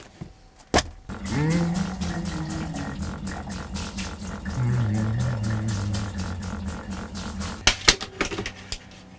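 Shower running inside the compact bathroom of a rear-layout Hillside campervan, a steady close hiss of spraying water with rapid rattling pulses and a brief clatter at the start and near the end.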